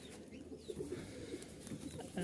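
At the Mirpur-1 pigeon market in Dhaka, pigeons give soft, faint coos over a low crowd murmur in a brief burst.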